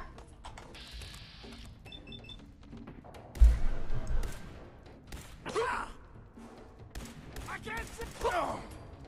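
Gunfire and heavy thuds in the video game Fallout 4, a loud impact burst near the middle followed by scattered shots and clatter, with someone speaking over the fight.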